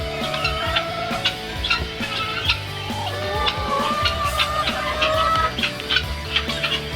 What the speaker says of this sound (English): Let's go look at some chickens.